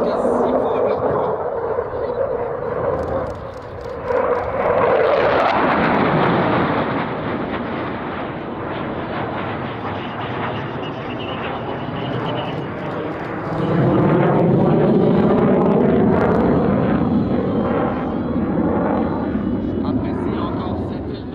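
A Dassault fighter jet that entered service in 1993 roars through a Couteau Delta display at the Gap-Tallard air show, its loud engine sweeping past and swelling again, under continuous French commentary.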